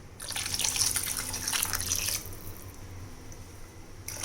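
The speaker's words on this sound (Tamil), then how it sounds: "தண்ணி சேர்த்துக்கலாம்." Plain water pours into a pot of poondu kulambu with a bright, steady splashing stream for about two seconds, then quieter simmering and a brief final trickle.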